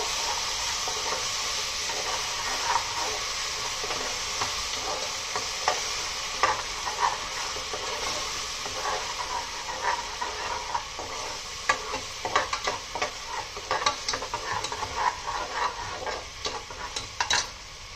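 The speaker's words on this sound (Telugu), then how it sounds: "ఇవన్నీ ఒక 10 మినిట్స్ ఫ్రై చేసుకుందాం మీడియం ఫ్లేమ్లో" An onion, garlic and cashew paste fries on a medium flame, giving a steady close sizzle while a spoon scrapes and stirs it, the clicks and scrapes grow busier toward the end, with no voices.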